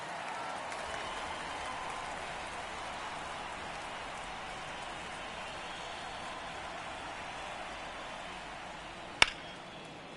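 Steady wash of stadium crowd noise in an MLB The Show 24 baseball game, Mets versus Braves, with a single sharp crack or clap near the end.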